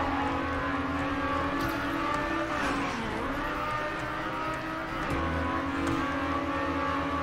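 Race car engine in the Trackmania racing game, resembling a sprint car, drones loudly and continuously with pitch dips and rises as it slows and accelerates, with no talk over it.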